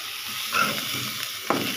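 Shrimp and onion frying in oil in a pan, a continuous hiss and sizzle with a few stirring scrapes and small pops, close and moderately loud, without speech.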